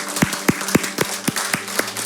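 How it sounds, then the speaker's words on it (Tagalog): A congregation in a church claps in unison as an offering of praise, about eight sharp rhythmic claps at a steady beat, fairly close. "Can we give a big clap offering of praise to our God?"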